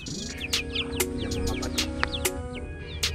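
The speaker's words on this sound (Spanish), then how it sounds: "Y ahora aparecieron ellos, dos pollitos." Young ducklings peep near their mother duck at an outdoor fishing spot, with a steady stream of high chirps and quick calls close by and no talking.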